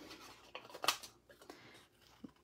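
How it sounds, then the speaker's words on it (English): Paper snips cut through paper in a few short, crisp snipping bursts, close and fairly quiet, with small rustles and handling noises between the cuts. "All right, paper snips."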